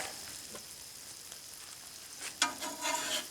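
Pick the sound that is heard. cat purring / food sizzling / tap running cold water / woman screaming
food sizzling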